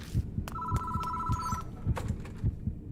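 A phone rings in the horror video game Death Mark, a steady electronic trill that sounds once and then stops, set against a slow, throbbing heartbeat-like pulse, with no talking.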